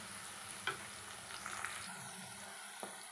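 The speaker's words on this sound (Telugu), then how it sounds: "ఉల్లిగడ్డ వేసుకొని ఇవి ఉల్లిగడ్డ మంచిగా ఫ్రై అవ్వాలి." Thinly sliced onions fry in a pan for chicken curry, a soft steady sizzle with a few light stirring scrapes, close but quiet, no voices.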